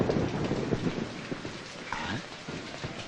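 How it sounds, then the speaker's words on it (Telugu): Steady night rain in a scene from the Telugu film Neti Gandhi: a continuous hiss with low rumbling thuds underneath and a brief tonal sound partway through, with no voices. "అమ్మా భారతి, ఇంత రాత్రిపూట ఈ వర్షంలో ఎక్కడికమ్మా బయలుదేరావు?"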